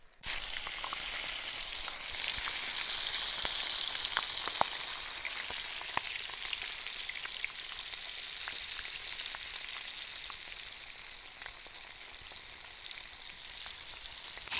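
A large pacu fish, as big as the frying pan, fries in hot oil with a steady, dense sizzle and crackle that runs close and loud for the whole stretch, dotted with sharp spitting pops.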